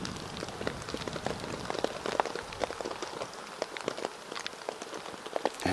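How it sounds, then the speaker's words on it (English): Heavy overnight rain pattering steadily outside a hot tent, with dense drops hitting the fabric and surroundings close by, continuous and fairly loud throughout. "And that's been a rainstorm."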